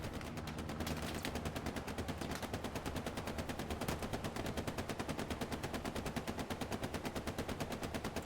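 Sustained machine-gun fire in the World War II game Hell Let Loose on the Hürtgen Forest map during a competitive match, a loud, steady, rhythmic stream of rounds that continues without pause.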